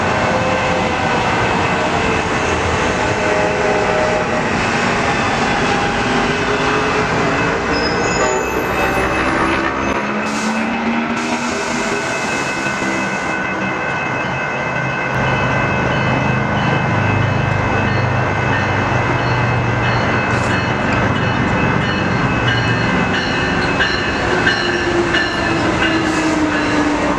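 Amtrak 586 bound for San Diego roars past close by, an SC44 Charger locomotive, number 2118, leading, with continuous loud rumble, wheel squeal and rail clatter throughout.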